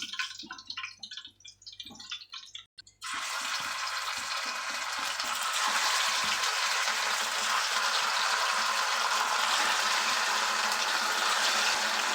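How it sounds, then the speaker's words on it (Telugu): Chicken pakodi pieces drop into hot oil after a few seconds of quiet clatter, then a loud, steady, dense sizzle of deep frying fills the rest without talk. "మనం కలిపి పెట్టుకున్న చికెన్ పీసెస్ అన్నిటినీ చక్కగా వన్ బై వన్ ఫ్రై చేసుకుందాం"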